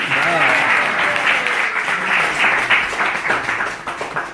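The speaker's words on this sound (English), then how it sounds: "So you give her a little round of applause." Audience at a Sunday spiritual talk applauds a woman called forward to receive a gift, a full, steady round of many hands clapping close by that tapers slightly at the end.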